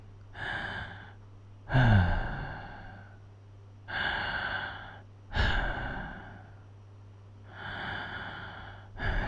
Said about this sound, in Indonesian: nafas kamu berubah sedikit, pelan, berat, tapi tenang